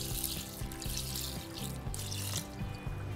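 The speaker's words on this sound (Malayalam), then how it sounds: "1 കപ്പ് വെള്ളം ഒഴിച്ചു." A cup of water is poured into a cooking pot with washed green gram in a home kitchen, a soft, steady splashing trickle with faint clinks, quiet and close, with no talk.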